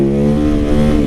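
A small, torquey motorcycle engine revs loud and close, holding a steady, rich harmonic drone that swells slightly near the end, with no voices.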